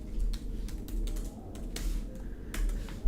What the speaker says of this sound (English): I'm going to type in my own text